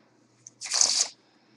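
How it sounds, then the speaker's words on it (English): A quick riffle of playing cards, one short papery burst lasting about half a second, close and crisp, with a faint tap just before it. "And we're just going to give those piles a shuffle."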